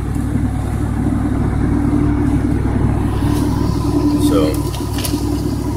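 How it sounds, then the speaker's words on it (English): A car driving on the road, a low steady engine and road rumble beneath someone talking close to the microphone throughout. "I don't know if you can tell, but I'm driving."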